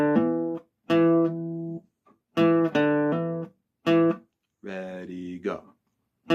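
Blues guitar riff on the 4th string with a hammer-on, short separate phrases of plucked notes with pauses between, close and fairly quiet, from a blues song.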